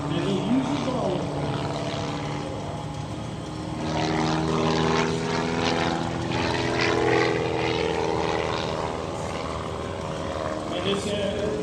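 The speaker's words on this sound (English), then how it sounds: "This airplane is powered by a high compression 230 horsepower Latrobe IO 360" An aerobatic airplane with a high-compression 230 hp Lycoming IO-360 engine drones overhead at an airshow, its propeller whine rising and falling in pitch as it maneuvers, moderately distant, with a voice talking over it.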